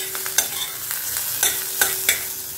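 Old spring onion stalks fry in a pan, a steady close sizzle punctuated by about five sharp spatula scrapes and taps.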